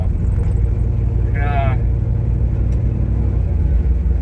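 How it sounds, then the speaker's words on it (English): An old car with an automatic transmission drives along as a steady engine rumble fills the whole span. A brief rising tonal whine in the middle may mark a gear shift, and someone talks over it. "it just shifted again. I think it's shifting too early"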